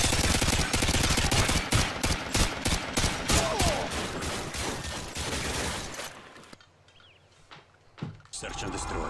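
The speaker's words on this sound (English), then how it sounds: "Gotta use a modded FAL" A modded FAL rifle fires rapid, loud shots in a Search and Destroy round on the Estate map, a dense stream of gunfire that thins out and stops, then a few closer shots near the end.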